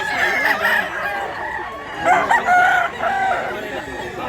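A big one-year-old gamecock stag crows on a farm in Barili, Cebu, with a couple of loud, drawn-out calls nearby while someone talks.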